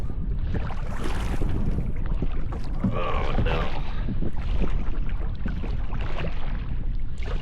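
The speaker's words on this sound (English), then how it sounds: "the wind's blowing so hard" Strong wind roars steadily and loudly across the microphone on a lake while canoeing, with a short spoken exclamation partway through.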